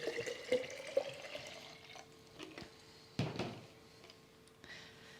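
Houseplants being watered indoors, with faint trickling and splashing water, a few soft knocks and one brief louder pour near the middle, all fairly quiet and close.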